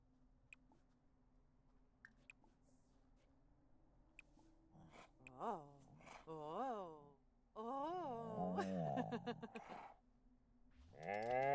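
A cow in The Sims 4 gives several drawn-out moos and grunts of rising and falling pitch while being petted, fairly close and clear, beginning after a quiet stretch with faint game background.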